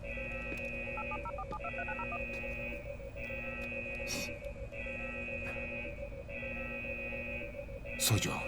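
A rapid string of telephone keypad tones beeps in quick succession, followed by repeated ringback tones pulsing at even intervals, with a brief clatter near the end.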